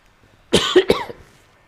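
A close, sharp cough in two quick bursts, followed by quiet.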